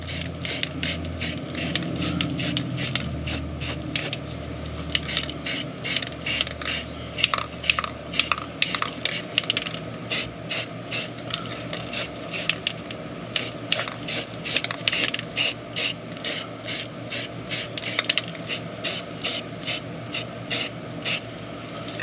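Self-etching primer sprayed from an aerosol can onto Range Rover Classic radius arm parts, a series of short hissing bursts, about two per second, with a faint steady mechanical hum underneath and no talk.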